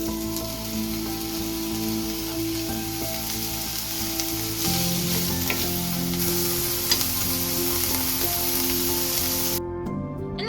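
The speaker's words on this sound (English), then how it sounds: "They go into a hot pan with neutral oil, and I'll saute until the onions begin to soften." Onions sauté in a hot pan with neutral oil, giving a steady close sizzle and crackle that swells louder midway and stays even to the end, where it cuts off abruptly.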